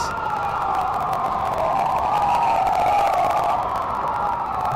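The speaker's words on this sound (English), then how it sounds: "we're getting loud sirens as well here. Lots of loud sirens." A steady wailing siren drones continuously in the distance, its pitch gently rising and falling over a constant background hum.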